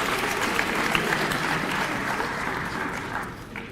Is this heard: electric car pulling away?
no